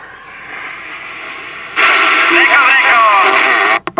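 CB radio transmission swamped by heavy static: a quieter hiss gives way to a loud, dense burst of noise with a faint warbling voice inside it, cut short by a brief dropout near the end.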